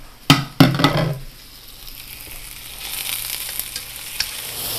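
Pork loin sears in a frying pan, with two sharp clatters at the start, then a steady close sizzle that fades slightly before rising again, with no voices.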